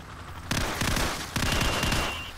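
Two sustained bursts of rapid automatic gunfire in Call of Duty Modern Warfare, shooting out a row of TVs, loud and close with a brief gap between the volleys.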